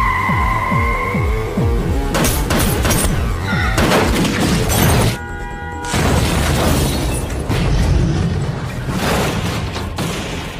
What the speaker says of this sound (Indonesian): tiba-tiba mobilnya menabrak dan meledak